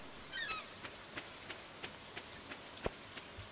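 Soft, steady rain falls in the farming video game Stardew Valley, a quiet hiss with scattered light drip-like ticks and a brief chirp, faint and continuous with no talk.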